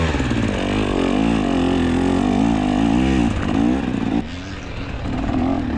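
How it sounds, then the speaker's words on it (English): A race car engine revs hard and loud while the wheels spin, with the pitch sweeping up and down, on a track that runs through field sections during a 6-hour endurance event. "No clutch, that's just all wheel spin."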